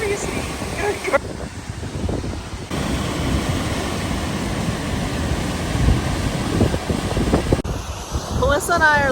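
A waterfall roars as a steady, dense broadband rush, loud and near throughout, with wind buffeting the microphone and a voice speaking briefly over it.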